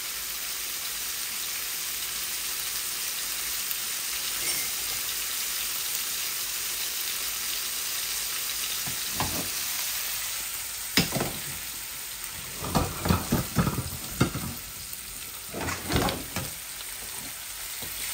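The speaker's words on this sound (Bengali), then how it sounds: "মাছগুলা এপিট ওপিট করে ভেজে নিচ্ছি" Pieces of fresh fish frying in a pan, a soft steady sizzle that builds toward the end. Clustered scraping and clattering turns are heard as the pieces are flipped.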